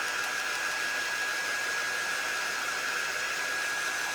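A hair dryer blows steadily on a damp handmade craft piece bound for a Dollar Tree frame, a continuous close, even whoosh with a faint high whine running unbroken throughout, no voices.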